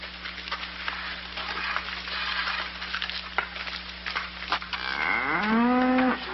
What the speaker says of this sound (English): look at this big cow